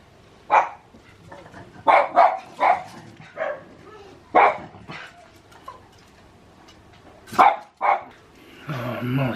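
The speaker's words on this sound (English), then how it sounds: "Molly barking at everyone" A pet dog barks repeatedly outdoors near a home lawn, sharp separate barks in irregular bursts, fairly close, with a voice speaking toward the end.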